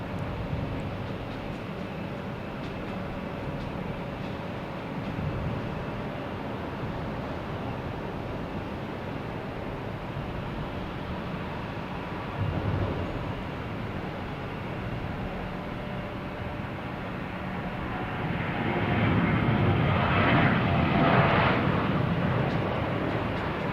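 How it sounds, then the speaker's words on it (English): A Southwest Boeing 737 taking off from Boston Logan, a faint, distant jet rumble that holds steady and then grows louder toward the end. "next taking off, we have a Southwest 737 heading to Dallas, flight"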